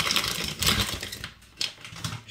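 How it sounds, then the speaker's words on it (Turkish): Crinkly plastic crackling and rapid tearing of a bag of Arko Men 2 Pro razor blades, in close, busy bursts with a brief lull midway and no talk. "Poşetten çıkartıyoruz. Poşeti yırttık."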